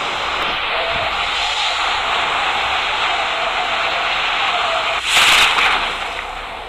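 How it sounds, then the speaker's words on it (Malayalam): A steady rushing wind roar fills a parachute descent in PUBG Lite, loud and continuous, with a brief brighter whoosh surge near the end. "പാരച്യൂട്ടിൽ വഴി താഴെ ഇറങ്ങുകയാണ് പാരച്യൂട്ട് ഓണാക്കി"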